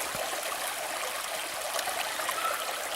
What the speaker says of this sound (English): Just thought I'd come down here by the creek where the temperature's a lot cooler.